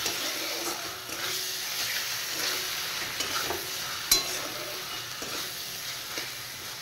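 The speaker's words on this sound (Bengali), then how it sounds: "এইবার মশলাটা ভালো করে কষিয়ে নেব" Turmeric, salt, dry chilli powder and tomato masala frying in a pan for prawn curry, with a steady soft sizzle, occasional stirring scrapes and a sharp clink near the middle, close and moderately quiet, with no talking.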